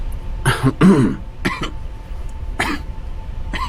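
Several short coughs from a patient being examined by a doctor, close and fairly loud, spaced irregularly with brief pauses between them.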